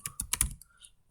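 A short burst of typing on a computer keyboard while writing Python code, about five quick close key clicks in a rapid cluster that trails off into quiet, with no talking.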